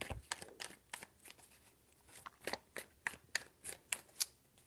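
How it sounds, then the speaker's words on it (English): Tarot cards are shuffled by hand in quick riffles and snaps, a string of crisp papery bursts that speed up near the end, close and alone with no talk. "Three shuffles."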